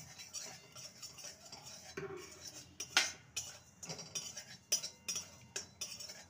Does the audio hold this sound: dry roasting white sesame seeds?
yes